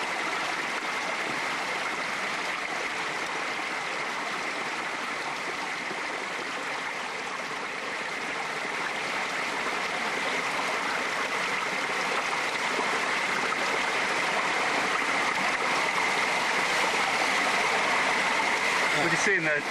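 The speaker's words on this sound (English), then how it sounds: "It didn't look very inspiring, but it was chucking out quite a lot of water" Steady rushing of a sizeable stream of water pouring out of a small cave hole, a continuous broadband wash with no pauses, close and fairly loud throughout.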